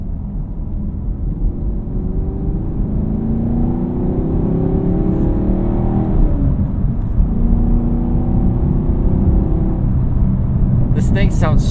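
Throaty V8 of a 2019 Camaro SS 1LE rumbles and revs up close, with steady low engine drone and rising pitch sweeps as the throttle opens, a voice talking over part of it.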